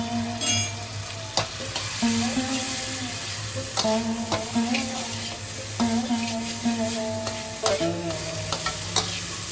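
Spice masala sautéing and being stirred in a pan for Bengali egg bhuna, with a steady sizzle and repeated scraping strokes of a spatula against the pan, close and continuous with no talk.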